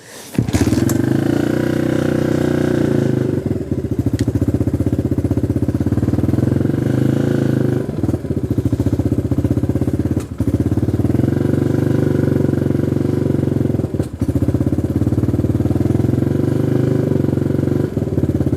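A Honda XR150 motorcycle with a carburetor problem idles loudly and steadily up close, with a few brief dips and stumbles where the engine falters, and no one talking over it.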